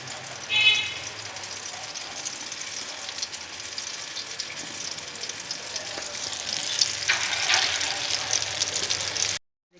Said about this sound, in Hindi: इसी तरह हम एक एक करके सारे फ्राई कर लेते हैं